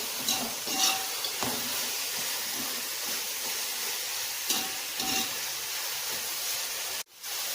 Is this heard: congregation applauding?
no